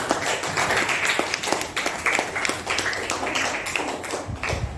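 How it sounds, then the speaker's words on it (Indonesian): A classroom of students applauds the rabbit group, with dense, steady clapping that fills the room for several seconds, close and lively, with a few sharper individual claps and no talk over it. "tepuk tangan untuk kelompok kelinci"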